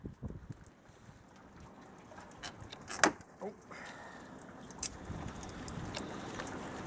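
Outdoor wind rumbles and buffets a microphone beside a Ford Explorer during a radiator replacement, a low continuous roar with a few sharp knocks and rattles, fairly faint overall.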